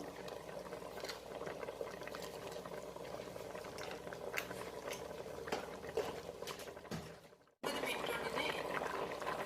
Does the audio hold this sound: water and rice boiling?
yes